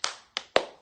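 Three short, sharp claps from a small audience for Lena, spaced irregularly and fading quickly with no talk over them.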